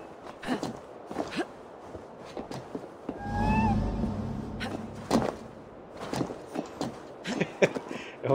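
A cat meows in a short series of rising cries in Assassin's Creed Valhalla, heard among scattered footsteps and thumps in the game's ambience.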